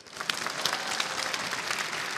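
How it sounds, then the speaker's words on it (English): A dense burst of audience applause at a Mrs Earth beauty pageant, steady and fairly loud, with no talking. "A round of applause, please."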